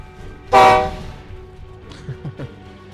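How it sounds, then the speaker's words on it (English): A train horn soundboard effect played on a Destiny 2 PC game stream gives one short, loud toot, followed by a few faint low knocks. "Blu-ray TV will give you the train horn."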